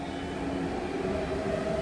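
A train rumbles steadily at Sunny Bay station, a continuous close mechanical drone with rail and wheel noise and no voices over it.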